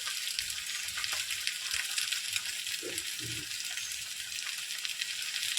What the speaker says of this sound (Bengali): এবার শাকটাকে আমি ভালো করে ভেজে নেব